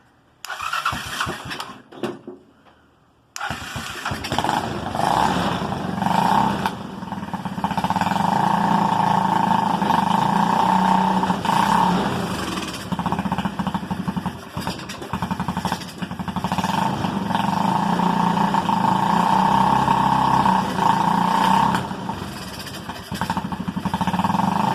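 A Honda 200cc off-road buggy engine cold-starts in freezing weather after a few cranking attempts, then catches and settles into a loud, steady idle with slight rises in revs, close to the machine.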